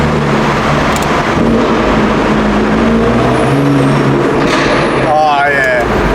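BMW M4 fitted with an M Performance downpipe roars loudly close by, its engine and exhaust droning and rising during a short pull, while someone talks excitedly over it.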